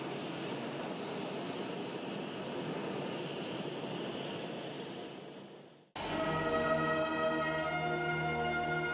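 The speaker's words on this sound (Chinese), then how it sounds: "载护江泽民同志遗体的专机缓缓降落" A special jet aircraft lands at Beijing's Xijiao airport with a loud, steady roar that cuts off abruptly and gives way to a high, ringing turbine whine.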